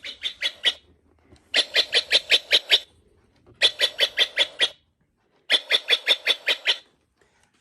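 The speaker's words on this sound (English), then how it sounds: "8 o'clock is the Steller's jay." A Mark Feldstein and associates bird clock plays its recorded Steller's jay call: four loud bursts of harsh, rapidly repeated squawking notes separated by brief pauses, with nothing else behind them.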